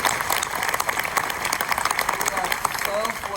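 Sustained applause from a crowd at a graduation ceremony, honoring the college president, a steady dense clatter of clapping heard from within the audience with murmuring mixed in.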